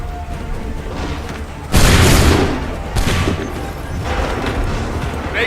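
Soldiers in the Assassin's Creed III game loose a musket volley: a loud, sudden burst of combined gunfire crashes in, decays into rumbling smoke-like noise, then a second volley follows about a second later amid ongoing battle din.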